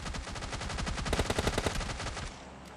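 Rapid burst of Thompson submachine gun fire in PUBG Mobile Lite, a fast sustained rattle of close, loud shots that cuts off abruptly near the end.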